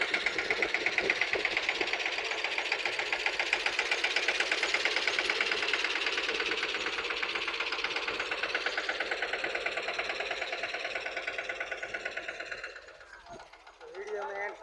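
A tractor runs in a farm field with a steady, close mid-pitched engine drone and rapid knocking pulses. The engine holds even for most of the stretch, then drops and falters briefly near the end.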